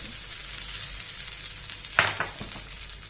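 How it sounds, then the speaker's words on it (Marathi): Hot tempering sizzles steadily in a pan, and a sharp crackling splash comes as it is poured over a coconut-free chutney. "ही तडतडलेली फोडणी ना याच्यावरती टाकून घ्यायची छानपैकी"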